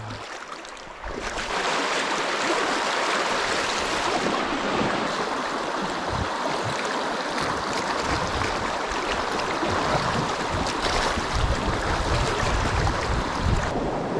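Wading through the cold, flowing current of the upper Loire river, with steady rushing and splashing water up close throughout, broadband and continuous, with no talking.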